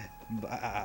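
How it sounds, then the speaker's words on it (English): A sheep bleats in the video game Quest 64, a short wavering synthetic cry of under a second, fairly close and moderately loud, with no talk over it. "Oh, it's supposed to be a sheep."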